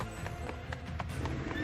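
A horse sound effect fired from a soundboard during a live Dungeons & Dragons game, brief rhythmic hoof clip-clops with a faint whinny, heard fairly quietly over background chatter.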